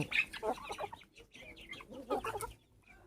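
Peruvidai country chickens clucking close by in a quiet yard, a few soft bursts of clucks separated by short pauses.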